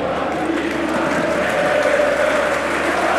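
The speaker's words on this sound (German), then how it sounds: "Aber Applaus der Rapid-Fans für den rechten Außenverteidiger" Rapid football fans in a stadium applauding a right back, a dense, continuous roar of clapping and crowd noise spread wide across the stands.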